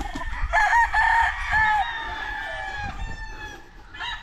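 Roosters crow on a chicken farm where breeding stock is kept. Several drawn-out, overlapping crows ring out close and loud against a low rumble of farm background.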